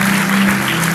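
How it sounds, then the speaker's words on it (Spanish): Church congregation in Aguadilla clapping in applause, a dense, steady burst of hand claps lasting about a second, loud and close. "le doy un aplauso al Rey de Reyes"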